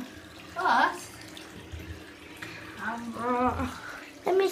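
Water from a tap runs into a bath holding a dissolving bath bomb, splashing in uneven bursts at close range while voices talk over it.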